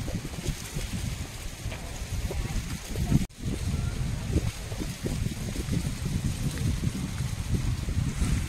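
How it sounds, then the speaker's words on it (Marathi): Strong wind blows on a hilltop near a temple, buffeting the microphone in a continuous low roar with a short dip midway, and voices talk faintly under it. "किती सुंदर वारा सुटलाय"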